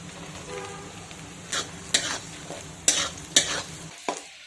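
Crushed garlic and chopped green chillies sautéing in a hot pan, with a steady low sizzle broken by several sharp bursts of frying and stirring.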